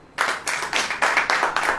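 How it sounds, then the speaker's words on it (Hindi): A church congregation claps in unison, a rhythmic series of loud hand claps at a steady beat, close and full, with no voices over them. "अब ताली बजाओ,"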